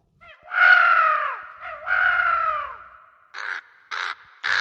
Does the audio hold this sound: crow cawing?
yes